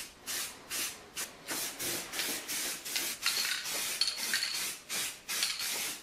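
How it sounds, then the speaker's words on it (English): A spray gun lays high build primer over mill-scaled steel in repeated short bursts, each a loud broadband hiss lasting about half a second with brief pauses between, close and steady, with no voices. "I can't believe he's spraying mill scale."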